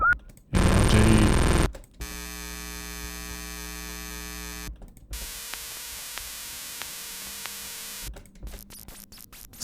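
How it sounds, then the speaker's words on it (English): Electronic machine power sounds: a loud burst of noise, then a steady droning hum that cuts off, another hum, and a final choppy stutter. "some shutdown and startup"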